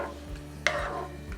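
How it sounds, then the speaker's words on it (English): Shrimp being stirred into a New Orleans-style creole sauce in a pot, with a soft wet scrape and a brief utensil knock against the pot over a low simmering hum. "Stir that in."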